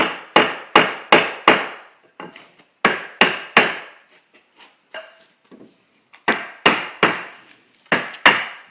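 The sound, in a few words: hammer tapping a wooden panel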